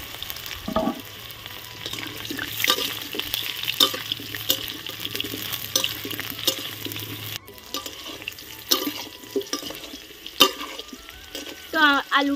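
Potatoes fry in hot oil in a wok for a chicken curry, a steady close sizzle broken by clanks and scrapes of stirring and a brief rush of water, with a low hum fading partway through.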